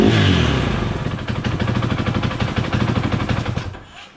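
Repaired KTM motorcycle engine running with rapid, rattling exhaust pulses, loud and close, revving up at the start and then settling into a fast staccato before cutting off.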